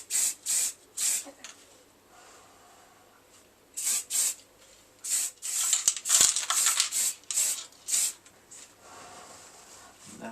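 Short bursts of spray paint hiss onto a Harley 883 Iron belly pan, a dozen or so quick passes in a loose rhythm with brief pauses, close and fairly quiet, putting down a light dust coat.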